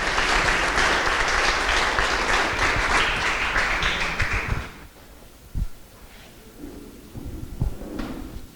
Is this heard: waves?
no